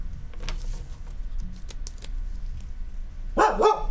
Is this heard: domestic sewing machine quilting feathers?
no